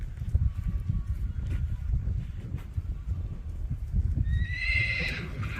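A red roan sabino stud horse ridden in a snaffle colt bit whinnies loudly near the end, with steady clip-clop hoofbeats and light wind noise underneath throughout.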